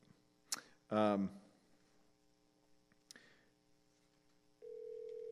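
A single electronic telephone ring burst, loud and close, followed later by a steady tone over faint room hum; a voice speaks briefly in between.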